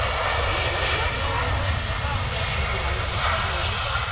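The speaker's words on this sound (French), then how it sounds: "Ah, on vient d'avoir un avion qui vient d'arriver." An airplane arriving at an airport runway, a loud steady engine roar that stays constant and fills the whole stretch without breaks.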